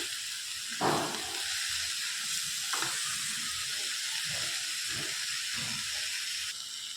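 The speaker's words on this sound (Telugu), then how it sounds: "మూత పెట్టడం వలన ఈ ఆవిరికి కూడా కొంచెం వాటర్ వచ్చి మంచిగా కుక్ అవుతుంది తోటకూర" Amaranth leaves and raw mango curry cooking in a covered pan, giving a steady sizzling hiss of steam throughout, with a few soft knocks and stirring clatters.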